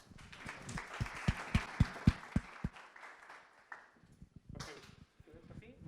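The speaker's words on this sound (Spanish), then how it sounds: "por favor, un fuerte aplauso para recibirle." An audience at a logistics and transport conference gives a round of applause, sharp distinct claps that quickly build and then fade after a few seconds, followed by a speaker beginning to talk.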